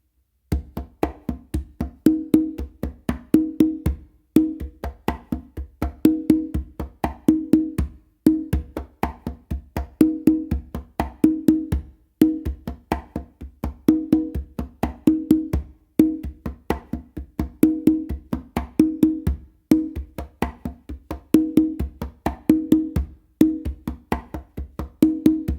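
A simple tumbao rhythm played on conga drums, with a steady looping pattern of open tones and slaps that repeats evenly and stays close and clear for a long stretch, with no voices.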